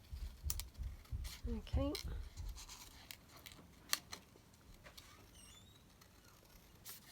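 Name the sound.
cutting out a paper banner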